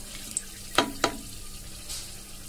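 Spices and masala sizzle in hot oil for a vegetable biryani, a soft steady fry broken by two quick crackling pops.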